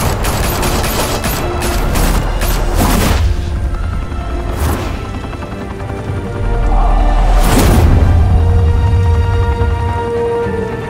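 Gunfire in a Batman video game, loud bursts of rapid shots and booming impacts crowding together, with a couple of heavier blasts and a rumbling low din between volleys.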